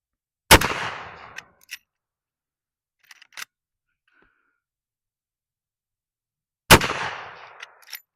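Two sharp, loud rifle shots about six seconds apart from a Rossi R95 lever-action chambered in 30-30, each with a decaying outdoor echo, and a couple of metallic lever clicks between them.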